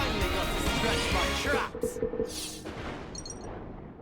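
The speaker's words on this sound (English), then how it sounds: "Nice explosion, and then we just bonk him with a big hammer." An explosion in the video game Xenoblade Chronicles 3 bursts loud and sudden at the start, followed by crackling, booming debris and scattered game effects that trail off.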